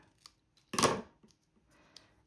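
Scissors snipping through a paper book page for a bow craft, one close, crisp cut followed by a few faint small clicks in an otherwise quiet setting.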